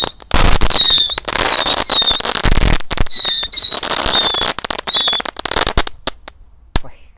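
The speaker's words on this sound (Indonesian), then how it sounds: "Selanjutnya di sini ada mercon tikusan pretek, langsung kita nyalakan 1 pak sekaligus ya." A pack of mercon tikusan pretek firecrackers goes off together, giving a rapid, irregular string of loud cracks and whistling squeals that thins out into a few isolated pops at the end.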